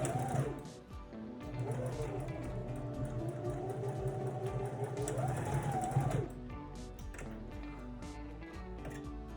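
A sewing machine stitches over a seam on a cloth face mask, its motor whirring steadily and rising in pitch for several seconds before stopping, close and moderately quiet.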